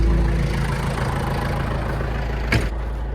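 A farm tractor engine idles steadily on a snowy farm by a milking barn, a low continuous rumble close by with a brief louder burst near the end.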